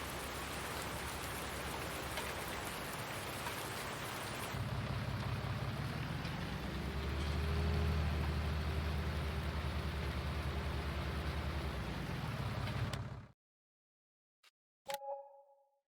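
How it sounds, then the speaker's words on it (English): Rain falls in the video game Farming Simulator 19, a dense steady hiss that swells slightly with a low rumble beneath, then cuts off abruptly to silence followed by a brief soft click. "This is one of those rare rainstorms where we don't have a lot of cloud cover."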